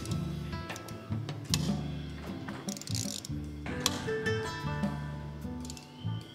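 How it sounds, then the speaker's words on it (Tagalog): A ratchet tightens the handlebar bolts on a Honda ADV 350 with close, quick clicking strokes in short, uneven bursts and brief pauses between them. "Pag naghihigpit kayo tsaka naglulusan ng bolt, huwag isahan lang."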